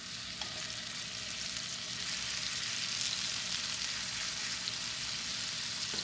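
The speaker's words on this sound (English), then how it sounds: "We're heating our pan up about medium because we want to get a good sear." Ribeye steaks sear in a hot pan over medium heat, giving a dense, steady sizzle and crackle of frying fat that runs continuously up close without pause.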